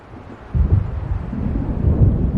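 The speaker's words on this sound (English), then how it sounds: "It seems there's a storm coming." Low distant rumble of thunder from an approaching storm in Alan Wake, starting faint, then swelling into a steady, rolling boom that carries on with a wind-like roar.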